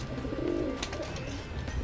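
Soft, low coos from Madrasi pigeons murmur continuously against a dense background hiss, gentle and somewhat distant.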